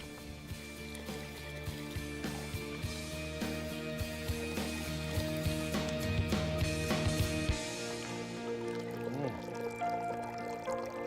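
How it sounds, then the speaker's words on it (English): Water pouring from a hand-operated village pump, a steady broad splashing stream that runs loud and continuous for most of the stretch before cutting off, leaving a quieter tail with faint ambient sound. "this baby produces over 500 liters of perfect drinking water every hour"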